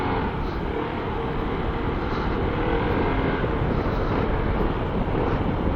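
A Euro Falcon 180i scooter engine pulls hard under acceleration, heard as a loud, steady low roar mixed with heavy wind buffeting on the microphone throughout.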